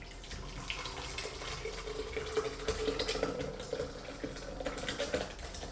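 Liquid pours and splashes into a jug blender set in a kitchen sink, a steady watery trickle with small splashes and drips, close and continuous, with no talking.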